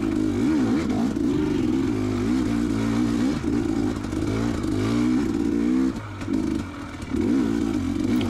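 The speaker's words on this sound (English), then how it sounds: "You can hear I'm basically second gear, just kind of lugging at that low to mid range, trying to keep the wheel spin down." 2019 dirt bike with nearly 190 hours lugging in second gear off-road on wooded trails, a loud, steady low-to-mid-range engine drone with small throttle wobbles and a brief dip near the end.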